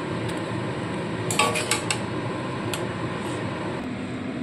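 A pot of hilsa fish head cooked with taro leaves is lifted off a gas stove, giving a short cluster of metallic clanks over a steady background hum.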